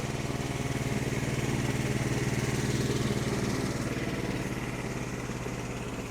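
A sawmill engine runs steadily at high revs while cutting a log, a loud, close, throbbing mechanical drone that holds even throughout and eases off slightly toward the end.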